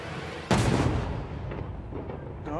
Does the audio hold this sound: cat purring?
no